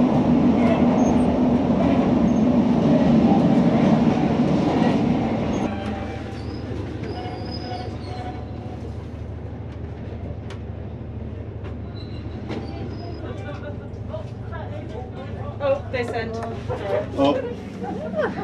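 Onboard a mainline train running near Corrour Station, the highest mainline station in the UK. A loud rumble with squealing wheels fills the first few seconds, then eases into a quieter clatter with scattered clicks and voices nearby.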